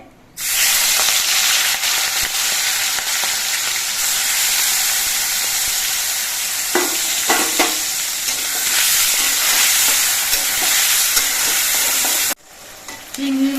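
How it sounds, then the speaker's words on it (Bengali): Prawns fry in hot mustard oil in a wok, giving off a loud, continuous hissing sizzle that holds steady for many seconds, with a few brief stirring clinks partway through. "সর্ষের তেলটা ভালো মতো গরম হয়ে যাওয়ার পর এবার এই চিংড়ি মাছগুলো আমি ভেজে নিচ্ছি"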